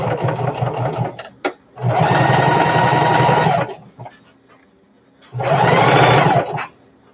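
Sewing machine stitching a fabric shoulder bag, loud and close, running in three bursts: a short one, a longer steady run, and a final run, separated by brief near-silent pauses.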